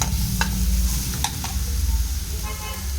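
Tomatoes fry in oil in a pan with a loud, steady sizzle, broken by a few clinking strokes of a utensil stirring against the pan, close and without talk.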